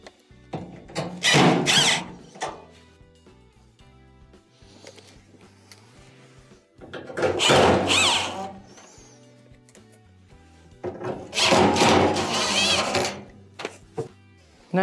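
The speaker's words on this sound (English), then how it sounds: "We'll go around and reinstall our screws." Screws being driven back in on a dryer drive motor assembly during a no-spin repair, three bursts of a power driver whirring, each about two seconds long, separated by quieter gaps, close up and fairly loud.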